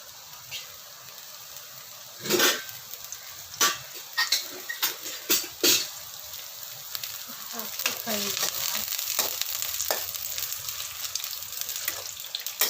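Finely chopped onions fry in ghee in a pan, a continuous close sizzle punctuated by scraping stirs and clicks, growing denser toward the end.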